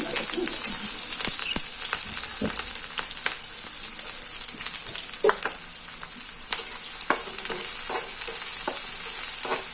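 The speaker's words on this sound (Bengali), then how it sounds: "তেলটা গরম হয়েছে, এখন এই যে মরিচ পেঁয়াজ দিতেছি" Chopped chili and onion hit hot oil in a home kitchen pan, giving a continuous bright frying hiss with occasional spatula scrapes and crackles, near and steady, no voices.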